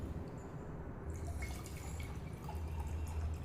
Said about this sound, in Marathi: त्यामध्ये पाणी टाकून घेऊयात या घटामध्ये